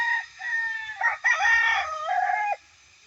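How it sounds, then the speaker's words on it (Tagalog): A rooster crows loudly and close, a long drawn-out call, with hens clucking faintly beneath it while the chickens are being fed. "Ayan, pagpapakain ng mga manok guys."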